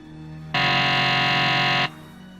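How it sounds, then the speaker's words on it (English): A loud, flat electronic buzz of a game show buzzer lasts just over a second, starting and stopping abruptly over a faint background hum. "From the sound of the buzzer"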